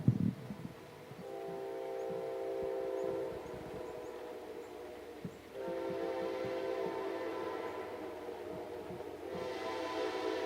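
A steady, high train whistle sounds in sustained blasts over low rumbling rail noise, holding for several seconds before pausing and resuming.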